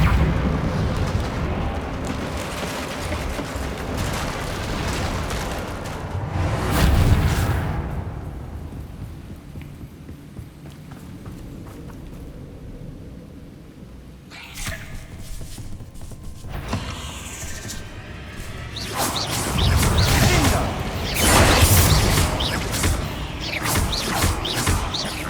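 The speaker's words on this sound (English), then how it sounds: "Perhaps we can mend the bridge." A repairing spell mends a broken bridge over a chasm in the Hogwarts Legacy video game, a long rumbling, grinding swell of stone that surges, fades to a low hum, then builds again into heavy crashing rumbles.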